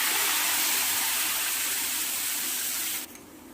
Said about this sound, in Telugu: ½ గ్లాస్ వాటర్ పోసుకొని